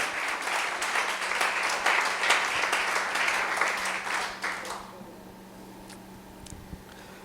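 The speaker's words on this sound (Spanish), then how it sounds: "Dale fuerte el aplauso al Señor" A church congregation claps loudly for the Lord during a sermon, a dense burst of applause that cuts off sharply after about five seconds and leaves a quiet room with a few faint knocks.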